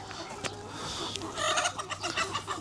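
Kharkov roosters cluck in short, throaty bursts, several calls coming close together over a low background hum, with no voices among them.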